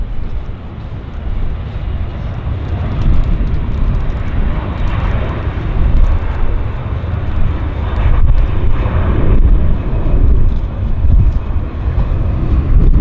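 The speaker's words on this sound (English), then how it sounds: "Cessna Stationaire on floats. Nice looking aircraft." Cessna Stationair floatplane at an airport, a steady low engine drone that holds fairly loud and continuous throughout, with no voices.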